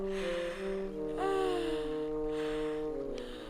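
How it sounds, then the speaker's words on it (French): Cartoon character lets out a long, loud yawn with a rising then falling drawn-out voiced tone over steady background music, no speech. "J'ai bâillé!"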